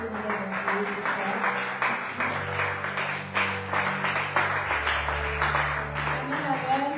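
A church congregation applauding during a service, rhythmic clapping running steadily under a preacher's voice and low sustained organ or keyboard tones, fairly close and lively.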